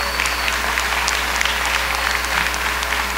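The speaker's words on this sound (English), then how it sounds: "How about another round of applause for him" Commencement audience applauding for the chancellor: dense, steady clapping from a large crowd, even and continuous over a low constant hum.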